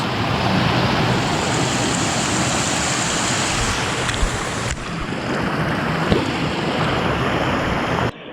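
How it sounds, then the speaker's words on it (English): A waterfall on a gold-bearing river roars in a loud, dense, unbroken rush close by, with no voices over it. "Waterfalls."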